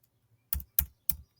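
Three sharp, evenly spaced keystrokes on a computer keyboard, close and fairly quiet, entering letters into a music notation editor, with near silence between them.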